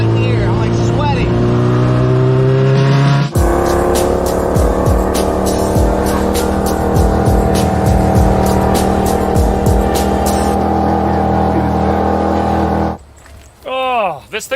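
A Monster Chopper motorcycle engine roars loud and steady, revving and shifting pitch as it is ridden, with squealing and whooshing passes and a voice speaking at times before it cuts off.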